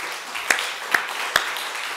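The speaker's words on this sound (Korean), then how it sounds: "하나님께 영광의 박수를 하겠습니다." Church congregation applause, faint and sparse with three distinct sharp claps standing out over a soft, diffuse patter in a reverberant hall.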